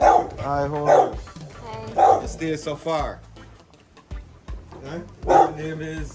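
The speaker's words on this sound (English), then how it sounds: "Yes, that's a dog." A dog on a farm with a plastic slatted floor facility barks and yips in short bursts between and beneath several people talking nearby.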